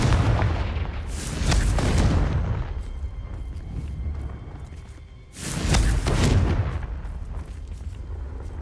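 Two loud, booming blasts from the Confringo fire curse in the Hogwarts Legacy video game, each a heavy rumbling burst that decays into a lingering roar, spaced a few seconds apart with no voices.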